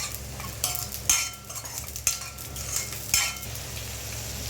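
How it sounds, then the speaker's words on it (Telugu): Chili powder stirred into egg curry in a pan, with three or four distinct scraping strokes of the spoon over a soft steady sizzle and low hum, close and without talk. "కారం అంతా కలుపుకోవాలి."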